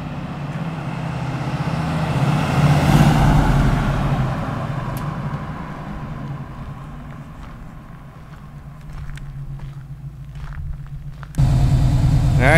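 A car drives back toward the camera after a burnout, a moderate engine drone swelling and then easing off, followed by a sudden louder idle near the end.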